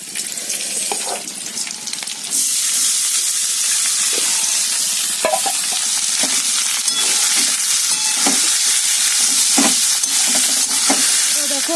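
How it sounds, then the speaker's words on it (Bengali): Leftover rice stir-fried with egg, onion and chili in a home kitchen sizzles loudly and steadily, with a spatula scraping and tapping the pan at irregular moments. "আমার ভাত ভাজা পুরো রেডি হয়ে গেছে"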